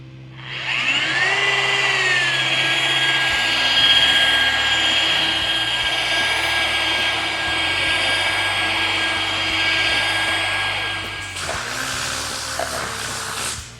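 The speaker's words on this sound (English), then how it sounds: "no coating is going to stand a chance against rotary with a wool pad and a really, really heavy cutting compound" A rotary polisher with a wool pad and heavy cutting compound works a ceramic-coated car panel, a loud steady high-pitched whir and hiss that holds for about eleven seconds, dips in tone, then shifts pitch near the end.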